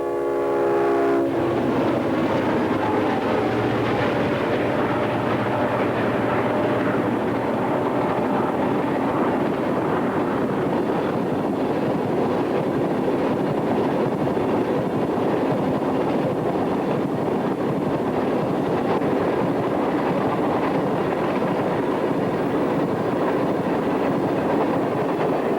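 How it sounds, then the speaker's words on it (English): Seaboard U-30C number 7229 and an SD-45, both diesel locomotives, haul a northbound coal train on former Atlantic Coast Line rails in Georgia. A horn blast opens, then a loud, continuous rumble of engines and rolling cars fills the rest. "Seaboard U-30C number 7229 and an SD-45 rumble northbound with a coal train."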